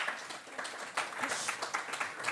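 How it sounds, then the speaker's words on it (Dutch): Applause from an audience at an architecture award event in Amsterdam as presenters are called forward, fairly quiet and steady, with dense overlapping claps filling the short stretch. "doe er maar een applaus bij"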